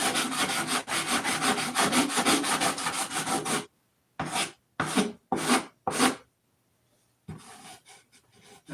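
Wood is sanded by hand with 80 grit sandpaper: rapid rhythmic rasping strokes for several seconds, then a few separate scrubbing strokes with short pauses between them, close and moderately loud.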